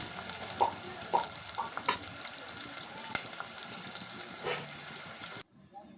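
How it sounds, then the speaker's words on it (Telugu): Onions and green chillies frying in a pan, a steady close sizzle with occasional stirring scrapes, ending abruptly. "చూడండి ఫ్రెండ్స్ ఉల్లిపాయలు పచ్చిమిరకాయలు బాగా వేగాల చూసారు ఫ్రెండ్స్"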